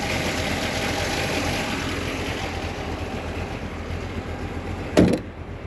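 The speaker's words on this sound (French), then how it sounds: "j'ai laissé le moteur en marche" A 1970 Corvette Stingray engine idles steadily and loudly throughout, with a sharp thud near the end like a hood or door closing.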